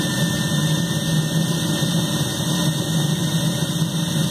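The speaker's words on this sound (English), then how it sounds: "Okay, blower's maxed out now. So the furnace is running pretty much full tilt." An oil-fired foundry furnace with its blower at full power roars in a loud, steady, unbroken drone with a constant rushing whine, close by and alone.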